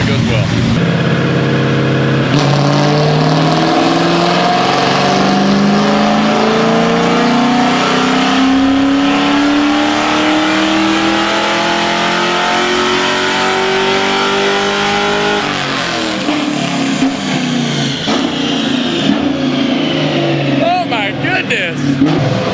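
Full bolt-on Ford Mustang strapped to a dyno for a pull, its engine revving in one long climb for about fifteen seconds, loud and close, before cutting back to a rougher idle.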